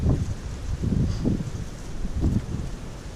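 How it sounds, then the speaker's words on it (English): Gusty wind sweeps over a steep mountain viewpoint on the Appalachian Trail, buffeting the microphone in low rumbling pulses roughly every second, loud and close, with no other sounds. "Little bit windy up here."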